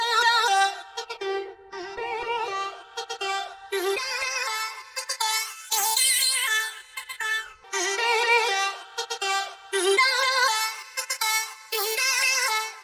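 A chopped vocal loop processed through a formant shifter, with an unnatural, shifted timbre, repeats in short bursts separated by brief gaps, bright and synthetic-sounding, with no other sounds.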